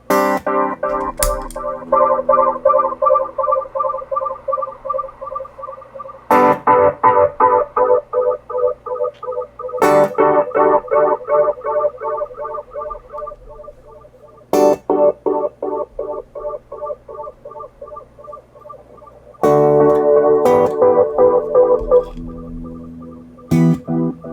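Loud electric guitar chords ring out in repeated strummed phrases with pauses between, the tone shifting in brightness from one phrase to the next as a Joyo EQ pedal is adjusted.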